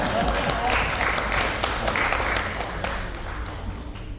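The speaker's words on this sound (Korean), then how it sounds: "한번 박수 쳐주세요" Warm applause from an audience at a book launch, loud and steady at first, then thinning slightly toward the end, with a voice speaking over it.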